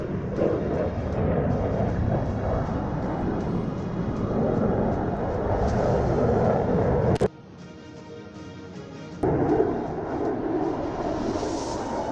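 An Su-27 fighter jet of an air force flies overhead during an aerial display of manoeuvres, giving a loud, steady broadband roar that drops away abruptly for about two seconds and then returns, with a voice talking over it.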